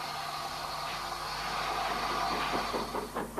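Bulleid steam locomotive at Yeovil: a steady, loud rumble and hiss of the engine with rail clatter building toward the end, and no voices.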